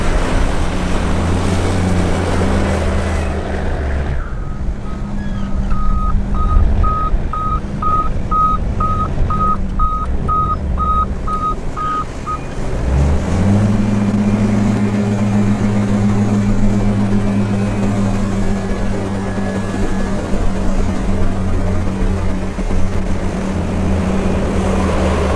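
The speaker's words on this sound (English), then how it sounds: "It's a big dump truck, isn't it? Big dump truck." A big end dump truck's engine idles with a deep, steady low rumble, while a repeating high reverse-alarm beep pulses for several seconds before the engine note shifts and carries on loud and close.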